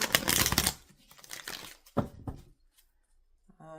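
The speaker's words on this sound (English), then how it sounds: "I feel like we need to give you another shuffle here." A deck of tarot cards is shuffled in a few quick bursts of riffling and slapping, close and crisp, with pauses between and a short faint tone at the end.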